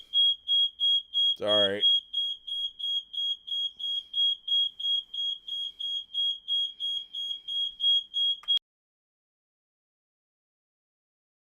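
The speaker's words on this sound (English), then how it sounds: "That was the fire alarm." Fire alarm in an apartment block, a loud steady high-pitched electronic beeping pulsing rapidly for about eight seconds before cutting off abruptly, with a brief spoken word early on.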